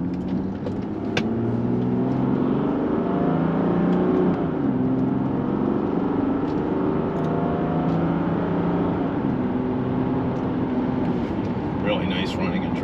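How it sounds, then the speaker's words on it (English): A 1998 Mercedes-Benz E300 Turbodiesel drives down the road, its engine a steady low hum with gentle shifts in pitch and a constant wash of road noise from inside the cabin. "Really nice running and driving car."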